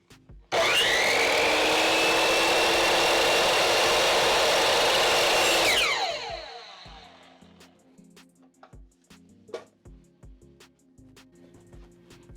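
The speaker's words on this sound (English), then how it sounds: "do not raise the saw until it is finished spinning" A sliding miter saw cuts through tiny pieces of wood with a loud, steady blade roar for several seconds. It then winds down into a falling whine, followed by light clicks and handling knocks.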